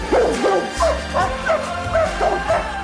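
Several dogs at an animal shelter bark and yip in quick, overlapping bursts, with whining tones between barks, close and fairly loud.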